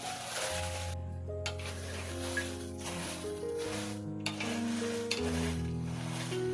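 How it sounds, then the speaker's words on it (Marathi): Dried red chillies sizzle and are stirred in a large wok over a wood-fired stove while making Goan garam masala, a soft crackling hiss with scraping stirs beneath steady background music. "त्या मिरच्या घालूया."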